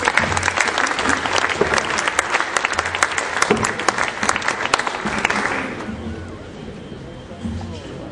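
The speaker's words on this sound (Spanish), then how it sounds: "Fuertes aplausos para él." Loud crowd applause at an evening lecture session, with bright individual claps and some murmuring, tapering off to quieter room noise in the last couple of seconds.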